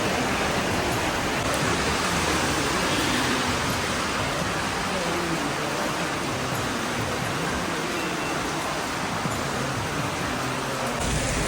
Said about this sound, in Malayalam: മഴയായി.